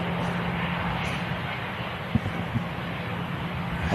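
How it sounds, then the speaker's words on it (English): EasyJet jet engines at Manchester Airport give a steady, moderate roar with a low hum beneath. Brief knocks break in near the middle, and no voices are heard. "Just get these engines out of the way of the EasyJet"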